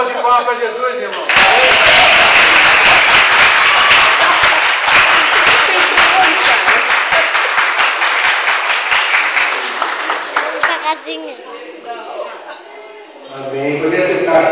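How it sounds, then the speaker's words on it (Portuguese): Congregation breaking into loud, close applause after a baptism, a dense burst of many hands that swells, holds for several seconds, then thins out as voices return at the end. "Uma salva de palmas para Jesus"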